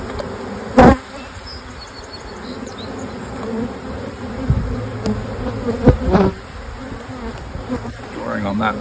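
Honey bees from a double nuc hive drawing new comb and building queen cups, a steady close buzzing swarm with a few louder passes of individual bees near the listener.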